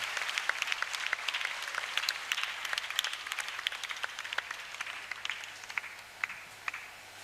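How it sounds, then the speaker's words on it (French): A church convention crowd in Togo breaks into applause, steady overlapping clapping with a few sharper individual claps standing out as it gradually tapers off. "Acclamez pour celle-là."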